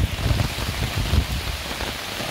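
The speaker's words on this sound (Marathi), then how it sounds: "जोरात असा पाऊस आलेला आहे हा." Heavy rain pours steadily while sheltering under a mango tree on a Konkan road trip, a dense, continuous hiss of drops with no voices.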